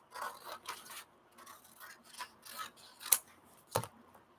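Scissors snip through paper at close range during a craft session, giving a few quiet, irregular rasping cuts with a couple of sharper clicks near the end.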